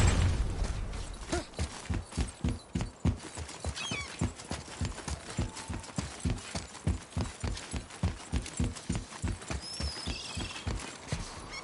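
Horse hooves clip-clopping in the video game God of War, a steady rhythmic trot of crisp, even hoofbeats that runs throughout, close and clear over faint ambient background, with no talking.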